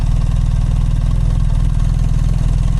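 A BMW R1300RT motorcycle engine idles steadily after coming to a stop, a loud, close, even low rumble with a fast regular pulse and no voices.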